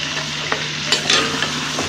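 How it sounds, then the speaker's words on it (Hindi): Potatoes and meat browning in a pan for Sindhi biryani, a steady sizzle broken by a few sharp scrapes and stirs of a spoon, close and fairly loud with no talk. "अब इसमें आलू भी डाल देंगे, इसको भी हल्का सा हम गोश्त के साथ ही ब्राउन कर लेंगे।"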